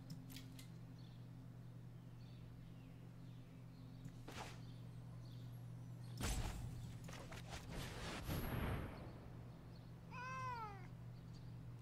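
A cat meows close by near the end, a short rising call, after scattered clicks, rustling and a louder shuffle over a low electrical hum.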